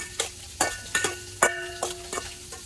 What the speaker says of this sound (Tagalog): Nagprito ko isda.